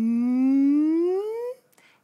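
A whale call: a single drawn-out moan that sweeps smoothly upward in pitch for about a second and a half, then cuts off. It is loud and clear, heard alone with no talking.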